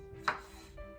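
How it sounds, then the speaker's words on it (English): A single crisp knife chop through a homegrown Roma tomato on a board in a kitchen, one short faint tap with a quiet hum around it. "This is how I be cutting."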